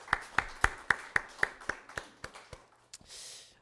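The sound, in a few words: church congregation applauding birthday members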